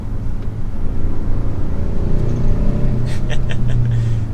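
A 2022 Hyundai Sonata N Line with its front-wheel-drive 2.5T engine pulls hard while driving, a steady, loud engine drone under tire and road noise, with a few faint clicks late on.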